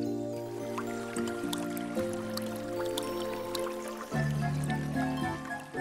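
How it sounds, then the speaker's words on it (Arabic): Cartoon water dripping: light, scattered drips and small liquid splashes over soft tonal background music, moderately close and fairly quiet. "رومبا، هذا مجرد ماء"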